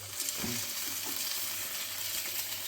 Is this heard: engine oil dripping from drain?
no